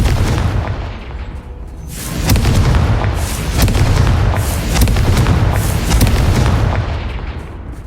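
Confringo spell explosions in Hogwarts Legacy rumble as loud, close booms, one blast rolling into the next in a dense, continuous roar.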